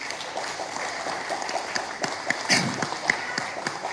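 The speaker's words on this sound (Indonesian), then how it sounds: "tepuk tangan dong" Applause at a PDIP party press statement, steady dense clapping throughout with a few louder claps and a little talk mixed in.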